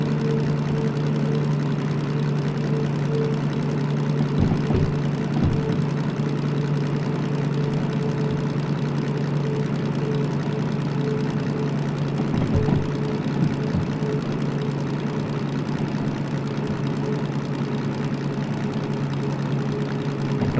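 A geared diesel locomotive engine in Derail Valley idles steadily with a constant low hum and drone, a few brief knocks and clunks breaking through, with no talking over it.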